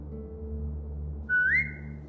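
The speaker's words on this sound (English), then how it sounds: "Now whistle and tell her to lie down." Short rising whistle to a dog in The Walking Dead video game, a single clear tone over a low steady background hum.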